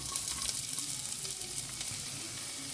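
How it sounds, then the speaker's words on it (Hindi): Onions and whole spices fry in a spoonful of oil in a cooker for tomato soup, a soft, fairly quiet crackling sizzle that carries on evenly. "प्याज को ना एक लाइट ब्राउन कलर आने तक हमें इसे फ्राई करना है।"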